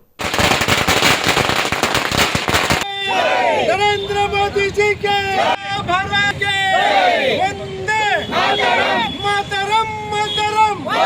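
Firecrackers burst at the Shidlaghatta circle in Chikkaballapur during an NDA street victory celebration: a dense, loud volley of rapid cracks for the first few seconds, then crowd hubbub and voices with scattered bangs.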